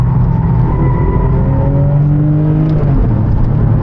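A Porsche 911 GT3 engine drives hard on a race track, its note climbing steadily as the car accelerates, loud and close with a rising whine over a deep rumble. Nobody speaks.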